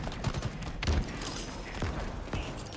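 Turrets fire at bases in Banished, a few sharp crackling bursts and thuds spaced irregularly over a busy game-sound background; no talking.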